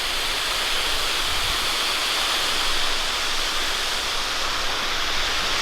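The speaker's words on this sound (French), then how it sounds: "Joli petite cascade." A small waterfall along Route 132 on the road to Forillon in Gaspésie pours as a loud, constant hiss of falling water, close and unbroken, with no voices over it.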